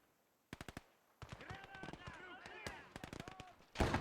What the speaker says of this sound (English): Ah, you got mowed down by that machine gun.